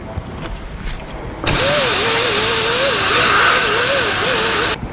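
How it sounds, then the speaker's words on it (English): A stripping disc on a power tool scouring rust off the face of a Rover 75 front brake disc, a loud sustained whirring grind of about three seconds that starts and stops abruptly, with quieter workshop noise either side. "We're using one of these stripping discs to clean up the face."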